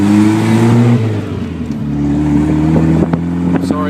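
Jeep Wrangler Sport with a 5-speed manual on a test drive, its engine droning steadily and revving between shifts, the pitch dipping briefly mid-drive before climbing again; no talk is heard.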